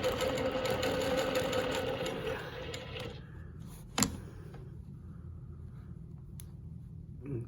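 Longarm quilting machine stitching a Baptist fan pattern along rulers, a steady close mechanical whir with rapid needle rhythm for about three seconds before it stops, leaving low room noise and a single knock.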